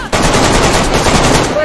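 Automatic gunfire during a PvP fight in the survival game DayZ, a loud sharp onset followed by a sustained rapid machine-gun burst, close and intense.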